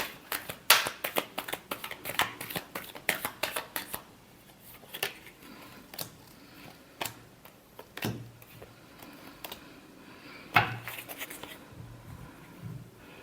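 Tarot cards being shuffled by hand at close range: a rapid run of crisp riffling flicks and slaps in the first few seconds, then sparser, separate card snaps and taps with quiet gaps between them.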